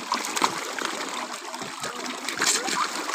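Water splashing and sloshing continuously on a lake boat trip as fish throw water up, a close, busy wet spatter with faint voices underneath.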